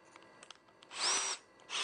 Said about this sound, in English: drill pilot holes for these because this part's going to be seen